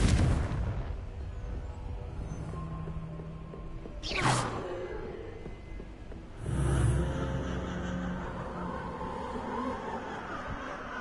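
Spell blasts ring out in a fantasy video game, two sudden booming explosions over a dense rumbling game soundscape, loud and close.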